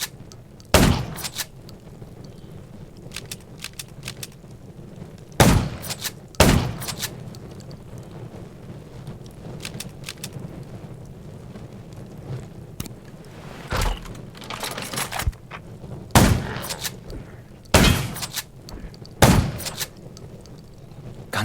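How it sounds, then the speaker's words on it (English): Sharp gunshots from the zombie survival game Undawn, fired as single cracks and short bursts at irregular intervals over a low, steady ambient rumble, loud and up close. "Gunshots will attract more."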